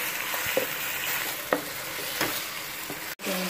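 Steady sizzling of chicken frying in a karahi pan, with a few soft clinks and stirring scrapes, then a brief dropout near the end.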